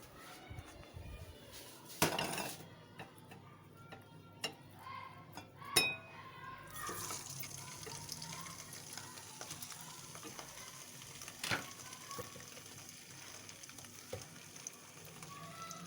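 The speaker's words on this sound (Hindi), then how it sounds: "ऑयल डाल दिया है। अब इसमें हम चिकन डालेंगे।" Chicken is added to hot oil for aloo chicken shorba, bringing a few louder bursts of sizzle and clattering as pieces drop in, followed by a steady quiet frying hiss with occasional utensil clinks, close and without speech.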